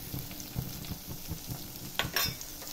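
Garlic, curry leaves and small shallots sautéing in a pan, a faint crackling sizzle with light rhythmic stirring scrapes and a brief brighter clatter of utensil against pan near the end.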